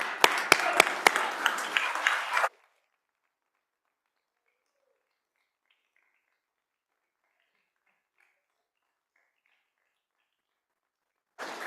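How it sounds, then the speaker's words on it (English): A House chamber gives a short burst of applause for a visiting county treasurer, sharp claps for about two seconds before falling silent. "Could we all please give him a hand of applause?"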